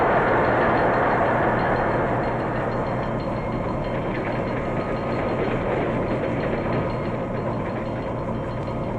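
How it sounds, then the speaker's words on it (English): A 1940 steam passenger train running on the rails with the throttle closing to slow it, a loud continuous rumble and roar of wheels and cars, close and steady with no talk. "closes the throttle to slow down the train"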